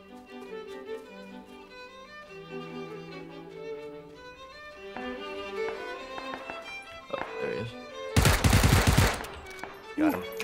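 Gunshots in a PUBG match as players fire at each other, including an UMP with almost no recoil. Game music and effects play first, then a loud, dense burst of automatic fire near the end, with players chatting around it.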